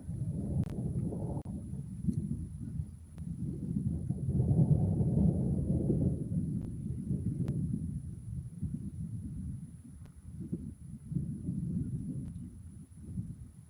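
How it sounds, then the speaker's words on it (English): Long, low rolling thunder rumbles on for many seconds without a break, swelling and fading in deep waves at a distance, with faint wind noise and no talk. "That was probably a good 20-second plus thunder roar."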